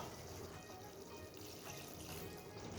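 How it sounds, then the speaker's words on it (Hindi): Water is poured little by little into jalebi batter, a soft, continuous trickling and splashing that stays faint and close throughout. "थोड़ा थोड़ा करके इसमें पानी डालेंगे।"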